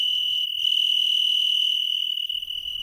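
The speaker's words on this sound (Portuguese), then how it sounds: "Os grilos, sem dúvida, fazem parte dos sons mais característicos que nós temos" Crickets chirring in a steady, high-pitched continuous trill, close and fairly loud, with a faint second layer of insect song above it; one of roughly 30 cricket species found in Portugal, heard in spring or summer.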